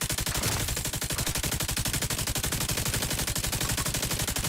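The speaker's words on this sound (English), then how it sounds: "I'm shooting them" Rapid automatic gunfire in a shooter video game, a loud continuous burst of closely spaced shots rattling without pause for several seconds.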